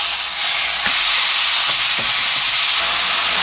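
Pork for kimchi duruchigi sizzles loudly and steadily in a heated pan, with a dense, close hiss and a few faint utensil taps, no voices.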